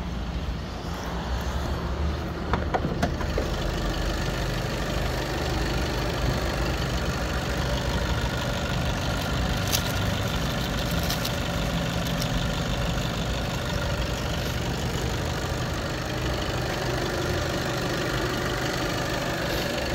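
A Volkswagen Passat B8 facelift engine idles steadily with the hood open, a continuous mid-pitched hum holding at even loudness throughout with no voices over it.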